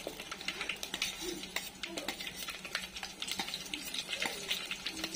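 Green chili and bay leaf stirred in hot oil in a pan, with faint, busy scraping and light sizzling that continues steadily without pause.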